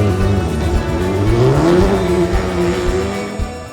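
A rally car slides through a corner at Rally Finland, its engine loud and close with revs rising and falling as it passes, and gravel and tire noise rumble beneath the roar.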